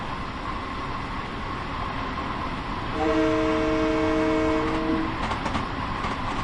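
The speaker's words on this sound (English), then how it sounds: "Got a good horn on it." A Long Island train in Train Sim World 2 sounds its horn, a loud steady multi-tone blast of about two seconds over continuous rolling rail noise and clatter.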